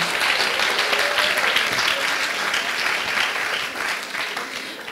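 Audience applause for the translator at a Strasbourg Europe day event, a dense, steady crowd clapping that carries on for the whole stretch and eases slightly near the end.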